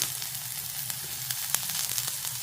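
Chopped shallots and green chilli sautéing lightly in a pan, a continuous low sizzle with faint clicks and scrapes of stirring scattered through it, close by and without speech.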